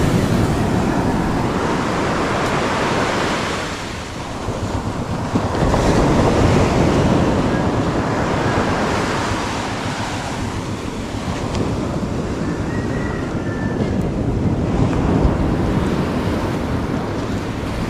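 Steady roar of surf and wind at the shore, loud and continuous, with waves washing in and gusts buffeting the microphone.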